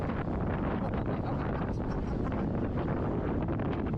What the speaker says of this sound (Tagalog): sobrang hangin guys! Sobrang hangin!